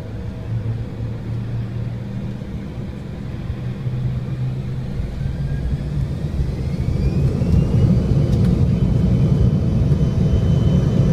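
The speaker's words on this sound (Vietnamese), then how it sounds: "Bây giờ thì máy bay nổ máy lớn lên và bắt đầu cất cánh, tăng tốc độ và tăng tốc độ dần." A jet airliner rolls toward takeoff with a deep, close engine rumble that steadily swells louder as the engines spool up.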